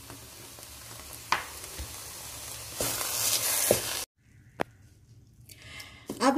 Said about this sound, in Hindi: अब हम इसके अंदर खोया मिक्स करेंगे, थोड़ा थोड़ा करके इसके अंदर हम सारा खोया मिक्स कर देंगे।